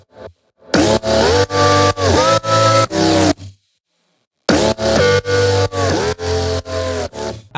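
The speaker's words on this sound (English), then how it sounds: "Here's how lead 1 and lead 2 sound together." Two bass house synth leads play together in punchy, rhythmic sidechained stabs with gliding pitched tones, loud and upfront, cutting out for about a second midway before resuming.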